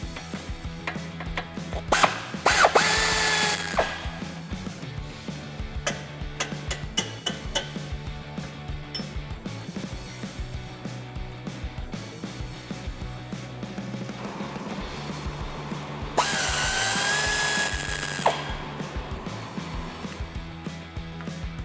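Tools work free the sway bar end links on a Jeep Wrangler JK front axle: scattered metallic clinks, taps and two sharp bursts of hissing, scraping effort, close by in a quiet garage.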